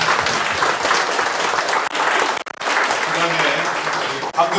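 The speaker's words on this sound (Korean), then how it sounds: "우리 축복의 박수 합니다" Loud, dense applause from a church conference congregation honoring a guest speaker, continuous clapping that briefly dips a couple of times before resuming strongly.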